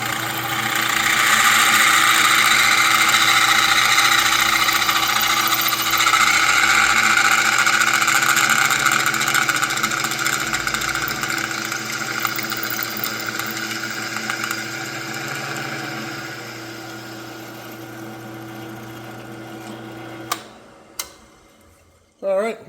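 A power drill with a 21/64 bit bores steadily through metal while fitting a front safety bar on a 1961 Harley-Davidson FL Panhead, a continuous close whine running about twenty seconds before stopping, followed by a few brief clicks.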